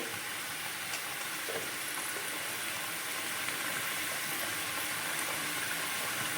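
Cumin seeds dropped into hot oil in a pan while cooking a Bengali fish-head curry with taro, yardlong beans and potato, giving a steady, close broadband sizzle and hiss that holds evenly throughout with no talking.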